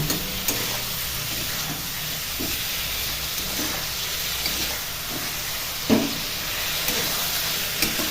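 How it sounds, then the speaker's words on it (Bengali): Steady sizzling hiss of spices frying in a hot pan over a high gas flame, with occasional soft scrapes and clinks of stirring, no voices. "এবার গ্যাসের ফ্লেমটাকে হাই করে দিয়ে এটাকে একটু কষিয়ে নেব।"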